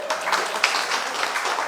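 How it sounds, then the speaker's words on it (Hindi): A group of children and adults at a community gathering clap together in a short, brisk burst of fairly close applause lasting under two seconds, with no one speaking over it. "बिल्कुल सही था, तालियां बजाओ"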